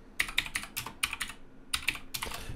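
Fingers tap out a short message on a computer keyboard in quick, uneven bursts of crisp clicks, close by with a brief pause partway through and no voices.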